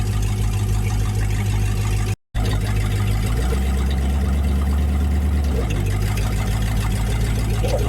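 A boat engine with baffles installed idles loudly and steadily, its low drone shifting pitch partway through, with a brief dropout early on.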